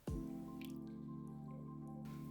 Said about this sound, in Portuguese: Coloco um pouco aqui na tigela e vou adicionar água.